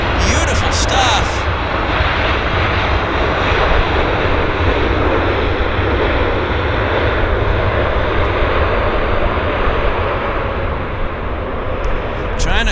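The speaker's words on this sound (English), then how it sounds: "China Southern arrives in style at YVR." A China Southern airliner landing at Vancouver airport, its engines roaring loud and close in a broad, sustained rumble that holds steady and eases slightly toward the end.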